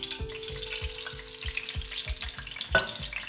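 Marinated chicken pieces for Chicken Manchurian frying in a pan on a low flame, a soft steady sizzle with a rapid, regular clicking pulse underneath and one sharper pop near the end.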